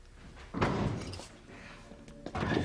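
Dull heavy thumps as someone bumps into a thick basement door, two muffled impacts a couple of seconds apart, close and moderately loud with faint background noise.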